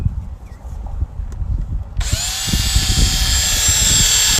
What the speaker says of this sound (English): So about right here is where I'm going to want to drill 1 hole